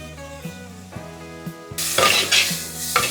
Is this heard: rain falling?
no